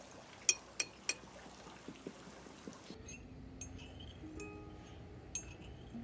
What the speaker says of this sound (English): She's gonna tap it on the edge of her glass.